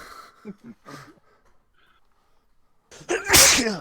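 A few soft voice fragments, then a pause, followed by one loud, sharp sneeze close by.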